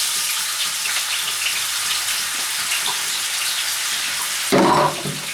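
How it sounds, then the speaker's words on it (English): Hot links and garlic fry in a pan with a steady, hissing sizzle that holds even and close throughout, then briefly swells louder near the end. "So we're going to fry up the hot links and the garlic first."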